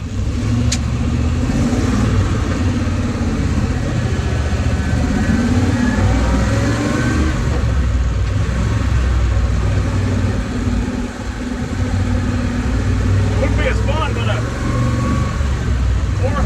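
A 1967 Chevrolet C30 truck driving on the road, its engine a loud, steady rumble with road noise throughout and a voice speaking over it.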